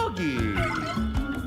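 A dog in a video game gives a quick series of close, high yips and barks over steady game background sound, lasting about a second and a half.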